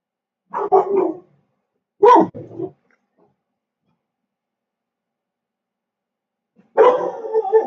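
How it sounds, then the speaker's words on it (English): Several dogs barking in short bursts, a quick pair of barks, another yelp a second later, then a longer run of barking after a pause; close and loud with silence between. "Sorry about the dogs."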